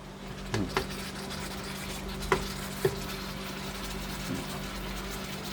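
Pork simmers and sizzles in a pan with its own juices, a low steady bubbling hiss broken by a few distinct clicks of utensils against the pan, no speech.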